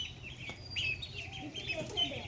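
Faint, high chicken chirps and peeps over a murmuring background with indistinct voices in the distance.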